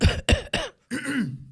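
A person coughs close up, three sharp coughs in quick succession, then a longer raspy cough that trails into throat clearing.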